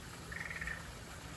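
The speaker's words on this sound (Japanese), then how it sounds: "カエル泣いてんの。" Frog croaking at a zoo, a short pulsed call of roughly half a second, soft and somewhat distant over steady background hum.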